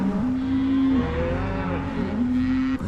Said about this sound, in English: there's a whole bunch of cattle being herded right next to the tent